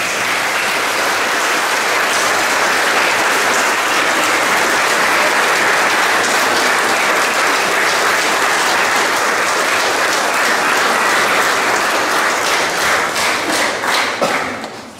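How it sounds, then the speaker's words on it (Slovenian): A congregation at a church celebration of a priest's silver jubilee claps in loud, sustained applause with scattered thumps, continuing steadily before fading at the very end. "Ta dva pa si zaslužita še poseben aplavz"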